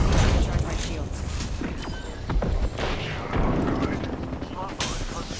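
Smart-bullet gunfire in a sci-fi shooter match, dense rattling shots and impacts layered over a busy game soundscape with a voice talking throughout.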